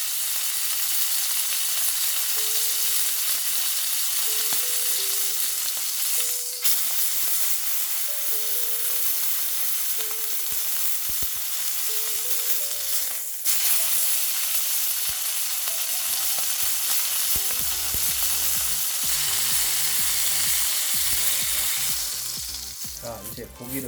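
Pork neck steak sizzles loudly in a hot pan as its sides are seared, a dense continuous frying hiss throughout, with a few faint tonal clinks and a scrape toward the end.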